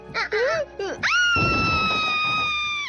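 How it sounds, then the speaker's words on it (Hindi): A girl in a Doraemon cartoon lets out a long, loud, sustained scream right after a brief bit of animated speech and a thud, held at full volume to the end. "तुम इतना जोर से चिल्लाई क्यों?"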